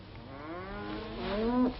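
A single cow gives a drawn-out moo that rises and swells before breaking off, fairly close, set against a faint steady background.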